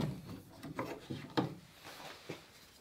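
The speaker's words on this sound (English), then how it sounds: "I'm just putting a few clamps on here" Wooden knocks and rubbing scrapes as clamps are fitted onto lapstrake planking of a dory under construction, several irregular close taps and shuffles without talk.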